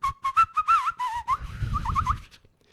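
A voice imitates someone whistling badly, producing a string of wavering, breathy, uneven whistle notes that slide up and down, close and clear, with no talk.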